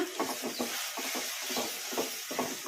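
Cashew masala paste being stirred and fried in a hot tempering on medium flame, a steady low sizzle with repeated rhythmic scraping strokes of the spoon close by, no voices.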